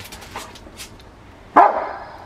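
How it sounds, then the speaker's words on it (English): A single sharp Rottweiler bark rings out near the end of a training session after a few soft, faint noises, close and fairly loud. "No barking."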